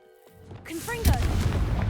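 A short voice calls out just before the Confringo blasting spell in Hogwarts Legacy erupts into a single loud boom, followed by a rumbling, crackling tail.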